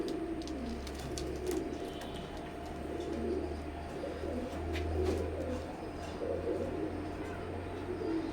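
Imported teddy breed pigeons, a breeder pair, coo softly in a loft with a low, steady purring coo repeating in soft waves, fairly quiet and close, with faint clicks and rustles.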